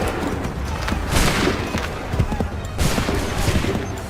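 Musket volley from soldiers in the video game Assassin's Creed III: dense, sustained crackling gunfire with booming bursts and hoof-like thuds, loud and continuous throughout, no speech.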